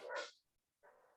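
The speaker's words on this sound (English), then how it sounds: "So sorry about the dogs." Two short dog barks a moment apart, the first louder, the second a little softer, heard without any talking.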